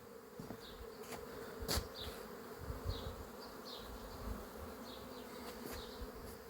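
Bees around beehives outdoors, a continuous close buzzing swarm with individual insects passing near the ear, fairly quiet and without talk.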